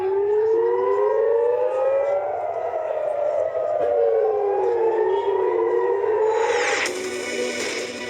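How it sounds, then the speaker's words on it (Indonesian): A loud, wailing air raid siren in Israeli cities during an Iranian missile attack, rising and falling in pitch, several overlapping tones, ending in a burst of static-like noise. "Sirine meraung di kota-kota Israel"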